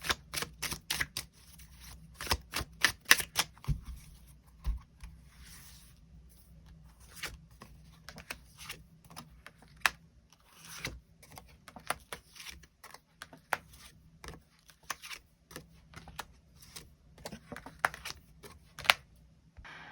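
Tarot cards are shuffled and drawn by hand: quiet, close riffling and flicking with irregular sharp snaps and slides, alone and without speech.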